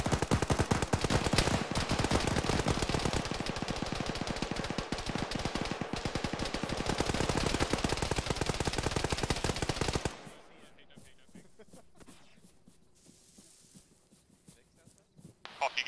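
Sustained suppressing machine-gun fire in Arma pounds in a fast, loud, continuous stream for about ten seconds, then cuts off to quieter ambience with scattered distant noises.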